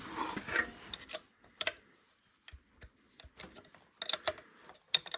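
A ratchet wrench loosens cylinder head nuts on a Yamaha Grizzly 600 engine during teardown, producing sharp, irregular clicking bursts with short quiet gaps between them, close up and fairly faint.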